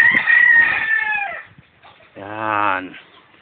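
A rooster on a small family farm crows once, a rising harmonic call standing out loud and close after a stretch of someone talking nearby.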